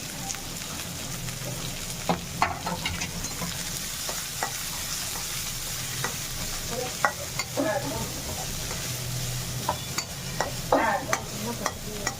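Two onions fry in a pan with cardamom over a simmer, giving a steady sizzle under repeated scraping and tapping strokes from a stirring spoon.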